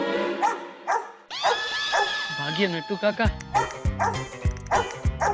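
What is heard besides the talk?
dog barking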